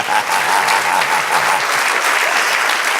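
A church congregation bursts into steady, dense applause that holds at full strength throughout, close and loud, with faint voices mixed into the clapping.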